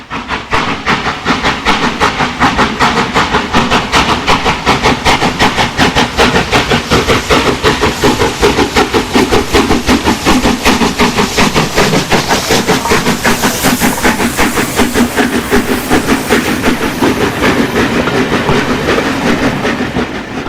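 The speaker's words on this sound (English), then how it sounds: "The other Royal Scot, pulls away from Coombe Flory on the West Somerset in March" A Royal Scot steam locomotive pulls away from Crowcombe Heathfield on the West Somerset Railway with its train. Rapid, rhythmic exhaust chuffs build into a loud, continuous beat with steam hiss, heard close and sustained throughout, with no voices.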